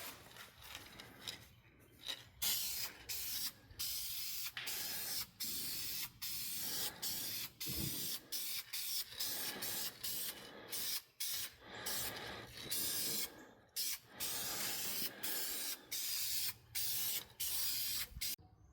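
Aerosol spray paint hissing steadily onto a Dodge car's interior dash and trim, in close, continuous bursts broken by many brief pauses.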